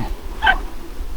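A dog gives a single short yelp-like bark at some distance, brief and fairly faint against outdoor background noise, along a path being walked.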